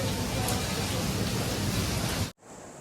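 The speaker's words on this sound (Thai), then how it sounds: "ฝนตก" Heavy rain pours down in a dense, steady hiss with low rumble, then cuts off abruptly near the end.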